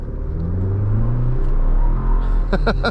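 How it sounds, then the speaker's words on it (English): A 2023 Chevy Colorado Z71 pickup accelerates hard from inside the cab, its turbocharged engine rising in a loud, steady rumble with a climbing tone; near the end a few sharp, rapid chirps of the tires spinning break through. "Spinning the tires there."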